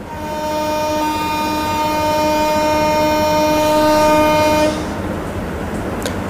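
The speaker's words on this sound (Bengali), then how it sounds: "অনেক লম্বা একটা হুইসেল দিলাম" A long, sustained train horn sounds in a train simulator game for an intercity express about to depart, one loud continuous blast of several seconds that cuts off, leaving a low rumble.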